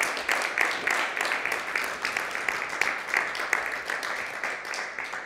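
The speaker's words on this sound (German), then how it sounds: "einen großen Applaus bitte noch einmal für Clara Hoheisel" A hall audience at the 2024 medius award ceremony claps steadily for an award winner. The applause is a dense, even wash that lasts the whole stretch with no break.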